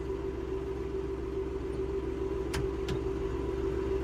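A John Deere 5075E tractor with an AC cabin runs at a steady idle, its low diesel rumble constant and close, with a couple of faint clicks near the end as the gear engages.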